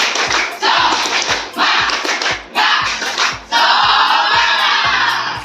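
Class 8E students at SMP Negeri Batui perform a rhythmic spirit clap chant in their classroom, with loud bursts of group clapping and shouts alternating with sharp pauses in a repeating pattern.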